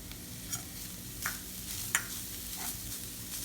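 Freshly added coconut being stirred into tuna puttu frying in a pan, with soft scraping strokes of the spoon every second or so over a faint steady sizzle, close and quiet, no voices.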